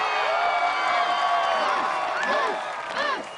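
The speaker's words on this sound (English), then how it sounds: "And the crowd chanting Moose as he steps up to take on the ring turn." A crowd cheers and chants for the competitor Moose at an American Ninja Warrior course as he steps up to the ring obstacle, a loud, dense and continuous roar with rising shouts and a commentator talking over it.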